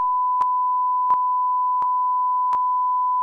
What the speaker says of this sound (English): it's gonna sound like beep